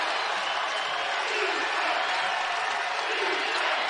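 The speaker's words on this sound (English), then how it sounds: "Crowd coming alive here at the FedEx Forum" Crowd noise at the FedEx Forum during an SMU at Memphis college basketball game, a dense, steady roar of fans swelling through the arena, with no distinct voice rising above it.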